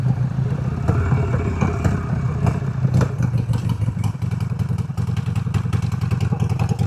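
A well-built Harley-Davidson Sportster 1200 rides through a U-turn test. Its engine rumbles close with uneven throttle blips, and clattery mechanical thumps run under the loud, continuous drone.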